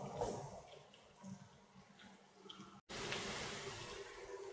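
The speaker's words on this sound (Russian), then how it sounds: "И наливаем кипяченую воду." Boiled water pours steadily into a pot with a hissing, splashing rush, pausing briefly before flowing on again, close and fairly quiet.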